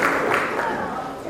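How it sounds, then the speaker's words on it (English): Wrestling crowd at a UK show cheering and clapping in a steady, dense wash of noise, fairly loud and continuous with a brief swell near the start. "The crowd starting to come alive for the action."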